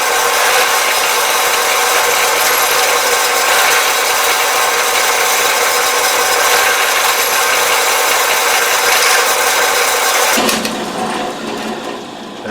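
A drill bores 7/16-inch holes 3/4 inch deep into 1-inch material for an air manifold, a loud, steady grinding roar that eases near the end.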